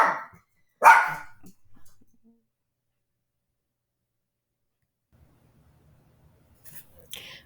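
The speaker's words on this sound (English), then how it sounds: "my dogs were going to start barking" A couple of sharp barks from pet dogs at home, fairly close, followed by a few softer yips and then quiet, with faint shuffling near the end.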